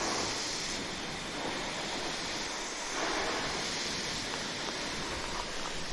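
Continuous hissing rush of water spraying from an adjustable garden hose nozzle on a mountain farm, close and steady with slight shifts in intensity midway.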